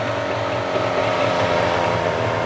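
A vehicle engine idles steadily just after starting, a continuous low rumble with a harmonic drone, close and loud throughout with no talk, at a shop in Jaffna.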